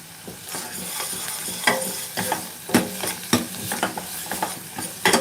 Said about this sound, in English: By frying the coriander leaves in the butter, they will look green even after it is cooked.